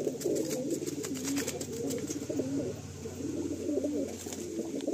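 Madrasi pigeons coo in a loft, with soft repeated throaty rolling calls from several birds overlapping steadily at close range, alone without talk.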